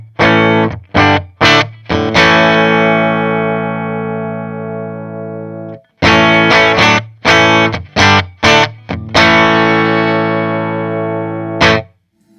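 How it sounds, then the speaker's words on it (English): An electric guitar plays through a 1968 Fender Bassman amp with no reverb and an Italian-made 12-inch 4-ohm Jensen speaker. Loud, distorted chords ring out in short stabs and long sustained strums, with brief pauses between phrases. "why don't we try the Bassman, which is going to be a 68"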